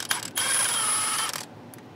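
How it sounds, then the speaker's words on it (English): A ratchet wrench turns a 10 mm bolt on a bracket holding heater core lines in a 2014-2018 Silverado/Sierra 5.3L or 6.2L engine bay, a brief click then about a second of steady close, loud ratcheting, alone. "take a 10 millimeter and disconnect this bracket holding the two lines going into the heater"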